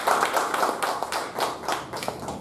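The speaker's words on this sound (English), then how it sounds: "Give her a round of applause." A small group claps at a speech evaluation meeting. The quiet, fairly rhythmic hand claps come through as distinct repeated slaps, close by and with no talking over them.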